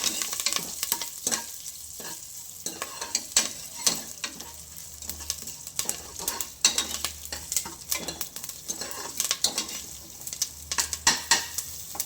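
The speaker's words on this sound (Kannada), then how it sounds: "ನೋಡಿ ಫ್ರೆಂಡ್ಸ್, ಸಾಸಿವೆ ಚಿಟಪಟ ಅಂತಿದೆ" Steady hot-oil sizzle with sharp, irregular crackles and pops of mustard seeds and curry leaves spluttering in a pan, close and continuous, with occasional stirring scrapes.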